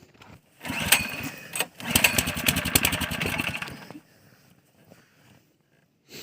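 A small motor-dog snowmobile engine is pull-started outdoors, sputtering briefly, then catching and revving loudly for about two seconds before dying away into near silence.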